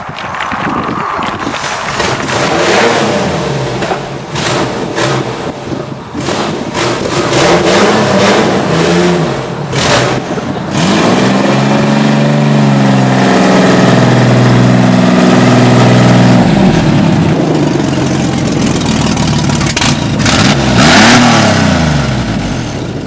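A car engine fires up and revs repeatedly, with rising and falling pitch sweeps from a mid-sized motor, loud and close, swelling to a sustained high rev before dropping back and climbing again.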